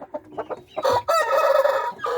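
A young cockerel of the old combatente fighting breed, about five months old, gives a few soft clucks and then a loud, strained, near crow that breaks off briefly and resumes.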